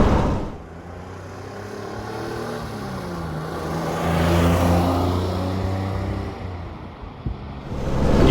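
Inside a Citroën SM with its 2.7-litre V6 cruising at speed, a steady, muted engine hum and road drone fill the cabin, swelling slightly with a rising tone midway, smooth and fairly quiet.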